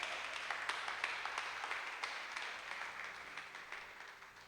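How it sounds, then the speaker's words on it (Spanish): Congregation applause in a church gathering, a dense, faint wash of many hands clapping at a steady level, heard from a distance with no voices. "me gustaría que los que estamos aquí nos diéramos un fuerte aplauso"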